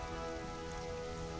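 Rain falling in the Conan Exiles video game, a dense, steady hiss of drops that is continuous and even over the short stretch, with no voices.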